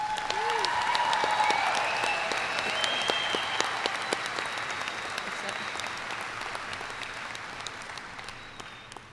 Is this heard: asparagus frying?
no